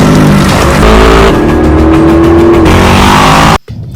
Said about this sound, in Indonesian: berusaha mengejar Martin yang kabur menggunakan mobil.